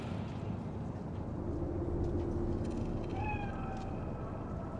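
A cat meows several times in the Cyberpunk 2077 game world of Night City, short drawn-out calls standing out against a constant low ambient rumble, with no talk.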